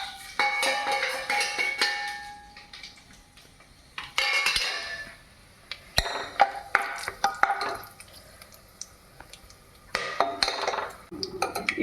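Whole spices tipped into a heated pan for mutton biryani: clattering metal and glass clinks and scraping come in several short bursts with quieter pauses between, close and fairly soft, with no voices.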